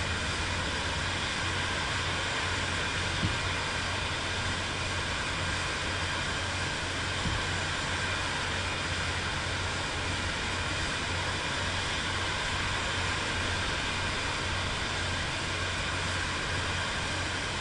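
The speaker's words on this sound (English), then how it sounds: "Taxiing nice and slow." Steady broadband engine drone of an airliner taxiing slowly in Microsoft Flight Simulator 2024, a constant, fairly loud hum with low rumble and no talk over it.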